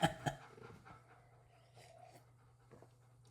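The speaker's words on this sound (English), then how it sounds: "some very disturbed dog breathing" A dog pants and breathes heavily up close, with a couple of sharper snorts at the start, then quieter raspy breaths.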